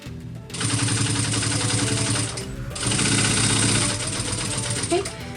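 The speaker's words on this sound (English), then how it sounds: "I sewed through the rat's tail just to make sure that it stays in place as I am moving along" A sewing machine stitches through vinyl bag fabric in two steady runs of loud, rapid needle hammering, broken by a short pause near the middle as the work pivots.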